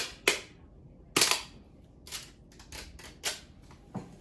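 Adhesive tape is pulled from the roll at a desk while organizing school supplies, making several sharp ripping snaps at irregular intervals with quieter tearing between them, close and fairly loud, with no talking.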